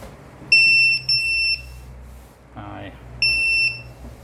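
An automatic thermometer on a stand sounds its over-temperature alert, loud high-pitched electronic beeps in three bursts of paired pulses, with someone speaking briefly between them.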